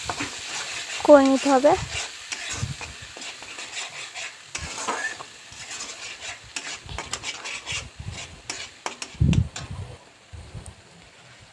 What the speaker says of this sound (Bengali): আদা রসুন বাটার পেস্টটা ওর সাথে দিয়ে দিলাম, দিয়ে এটাকে ভালো করে আস্তে আস্তে নেড়ে চেড়ে লাল লাল করে এভাবে